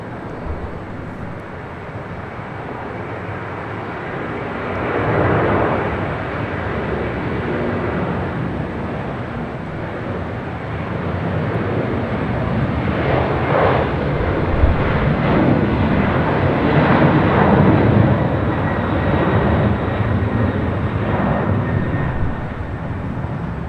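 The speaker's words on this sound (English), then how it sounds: "I should be seeing that United 767-300ER. I hear her. Should be rolling down at 25 right." A United Boeing 767-300ER airliner takes off on runway 25 right at LAX, heard as a broad, steady engine roar that builds from about five seconds and stays loud and sustained to the end, with no talk.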